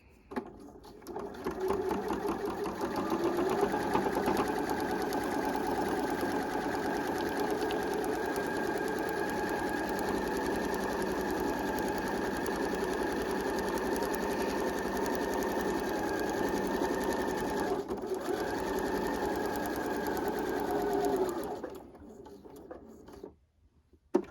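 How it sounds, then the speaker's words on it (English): A sewing machine stitching paper-pieced fabric runs steadily for about twenty seconds, a fast continuous mechanical whir and rattle close by, stopping abruptly at the end. "Now I'm going to sew between shape B2 and B3."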